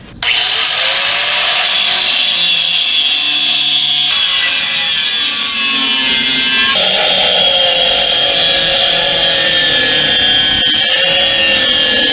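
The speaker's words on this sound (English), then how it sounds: "I need to cut the old bracket off and get it out of the way first thing" An old brake master cylinder bracket is cut off a mini Jeep during a reverse install, with a loud, continuous, harsh sawing and grinding tone that shifts slightly in pitch over about twelve seconds.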